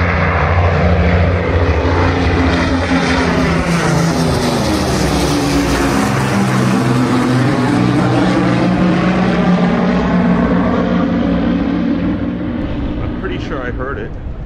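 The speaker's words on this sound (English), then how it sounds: "You could tell it was a propeller plane" A World War II Lancaster heavy bomber flies low overhead, its propeller engines droning at low RPM in a loud, sustained roar that swells and slowly shifts pitch as it passes, fading slightly toward the end.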